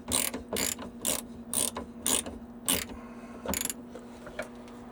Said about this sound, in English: So now I just got to go get a socket to pull this off.